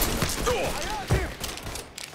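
Video game gunfire crackles in a rapid burst, a dense volley of shots with a heavier thud partway through, mixed with game voices and some live talk in the background.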